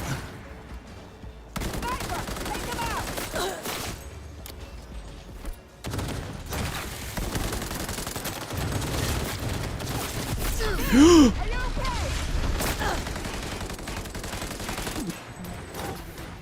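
Video game gunfire from a Linux gaming session, playing as a dense, steady wash of rapid shots and effects throughout, with a brief louder swell near the end and a voice gasping and reacting over it.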